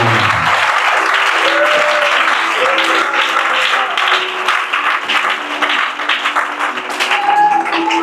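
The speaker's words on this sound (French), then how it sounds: "On acclame Jésus." A church congregation applauding Jesus: dense, steady clapping from a crowd, loud and sustained throughout, with faint voices mixed in.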